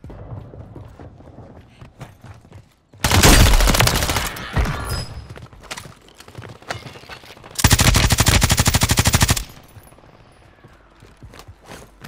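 Striker shotgun fire in a first-person shooter game: two loud, dense bursts of rapid shots, each lasting about a second or two, separated by quieter game ambience.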